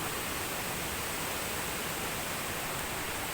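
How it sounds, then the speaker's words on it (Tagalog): Mandayao Falls, a low waterfall in Negros, pours as a dense, continuous, even roar of water, loud and steady with no other sounds. "And the falls also is not very high."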